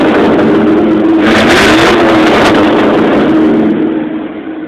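A gasoline truck engine, warmed up, runs loud and close, revving up and settling back with a rough mid-range growl before the sound tapers off near the end.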